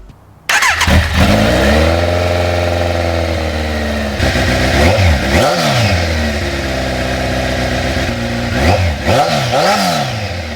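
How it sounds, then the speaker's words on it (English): A Kawasaki Z900 motorcycle fitted with LeoVince headers and a stock exhaust fires up and settles into a loud, close idle, with a couple of throttle blips rising and falling partway through. "Look at the bike now, it's back to stock. All right, let's hear the sound."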